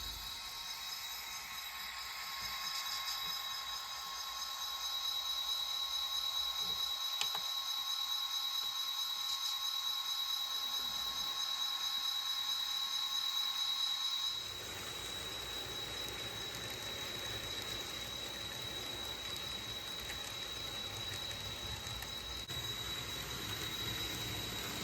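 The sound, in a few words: Santa Fe passenger train, the California Special, at station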